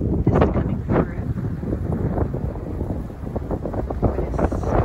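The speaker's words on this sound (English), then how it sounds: "It's very windy today, so I'm hoping this is coming through." Strong wind buffets the microphone at a river dam overlook, a steady roaring rumble with gusty bursts, loud and continuous throughout.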